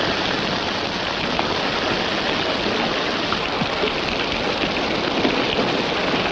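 Rain falls steadily in a 1952 Western, a dense, even hiss of drops on the ground that holds constant throughout with no voices.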